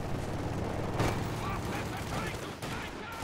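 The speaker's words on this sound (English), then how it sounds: "They get suppressed by the MG in the garrison" Machine gun fire from a garrisoned MG in a Company of Heroes 2 match, rapid bursts amid distant booms and battle noise, fairly faint under a commentator's voice.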